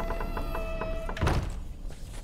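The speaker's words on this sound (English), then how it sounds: "Stop banging on the door." A single heavy thud against a door in The Witcher 3, struck once after a faint rhythmic tapping, close and solid with a short dull decay.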